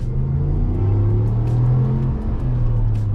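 A 2022 Ram 1500 Laramie pickup accelerating, a loud, deep engine rumble heard from inside the cab, holding steady and strong with a slight shift in tone as the revs change.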